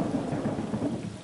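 Rain hisses steadily with a low thunder rumble in Atom Zombie Smasher, a brief, even wash of storm noise at moderate loudness.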